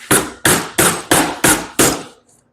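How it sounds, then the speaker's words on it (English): A hammer shapes a hand-made metal fender skirt for a 1935 Ford Coupe, six loud, evenly spaced ringing blows close by, each decaying quickly, then silence. "You too can do it at home with your K-Tel hammer"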